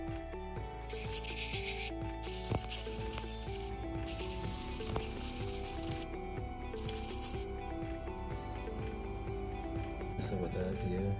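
A small diamond bit drills beneath the prongs of a gold bracelet during gemstone microsetting, producing a continuous high-pitched whine with a gritty rubbing edge and rhythmic ticking, close and steady throughout, while a person talks over it.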